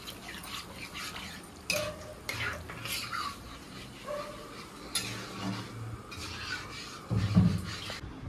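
A pot of tadka dal is stirred with a spoon, giving intermittent metallic clinks and scrapes against the pot over a low background hiss.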